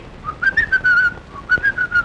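A person whistles a short melodic tune in a scene from the Tamil film Engal Thanga Raja starring a famous actor, with clear, sustained whistled phrases in two bursts separated by a brief pause, alone without talk.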